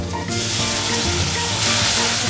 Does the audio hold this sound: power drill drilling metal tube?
no